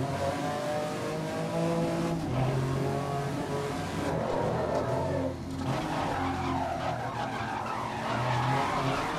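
A race car in the GRID 2019 racing game roars through corners, its engine revving and shifting loudly while tires squeal and skid, with a brief dip in the noise midway before the throttle picks up again.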